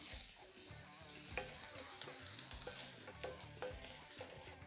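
Food sizzling in a pot at a braai shack while being stirred, quiet frying hiss broken by clinking spoon scrapes and knocks against the pot, close by.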